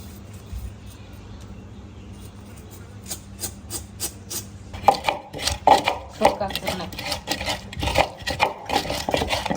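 Onion chopped on a board for a traditional Rangpur sholka dish, beginning with a few light cuts over a quiet hum and turning into a steady run of close, crisp knife chops.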